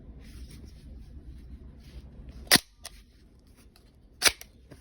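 A BCA AR-9 carbine with an empty Colt magazine, its bolt locking open after the last round: a sharp metallic clack close up, then a second crisp clack, over a low steady background hum.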